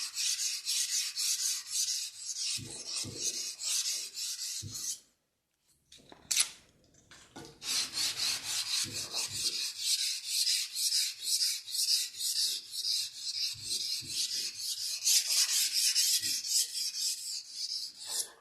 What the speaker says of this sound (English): now I'm going to sand the blade with 220 grit sandpaper